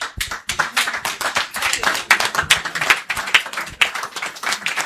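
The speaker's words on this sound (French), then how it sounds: "je veux que tout le monde se lève et que vous applaudissez pour vous-même" A crowd claps continuously, dense and steady applause filling the space without pause.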